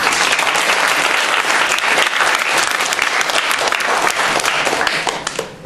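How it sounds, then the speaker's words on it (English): An audience at a school spelling bee breaks into sustained applause, many hands clapping densely and loudly for several seconds before tapering off at the end. "so we can applaud for those."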